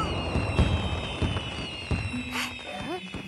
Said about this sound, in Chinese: 是葡萄节开幕预演放出的烟花。